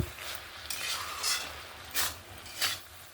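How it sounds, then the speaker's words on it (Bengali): Grated coconut stirred into boiled bottle gourd and chickpeas for a vegetarian lau chechki, a spoon scraping the pan in three or four brisk, fairly close strokes over a low hiss, with no talking. "নারকেল কোড়াটা দিয়ে ভালো করে মিক্স করে নেব।"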